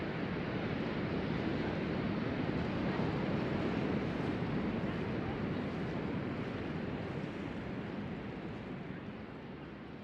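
Surf washes onto a beach in winter, a steady, dense roar of breaking waves with wind noise buffeting the microphone throughout, slightly easing toward the end.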